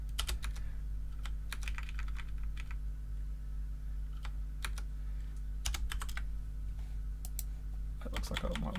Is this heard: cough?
no